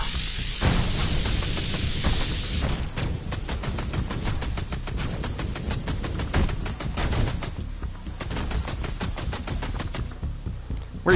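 Sustained rapid gunfire in the VR shooter game VR Invaders on PlayStation VR, a loud continuous stream of close shots with brief gaps, running nearly unbroken throughout.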